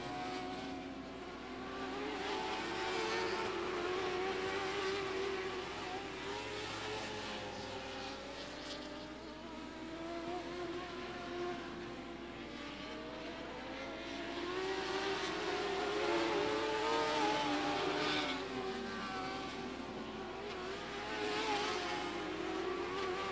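Dwarf race cars roar around an oval speedway track on championship night, a continuous blend of engines swelling and fading as they pass, heard from a distance with no talk.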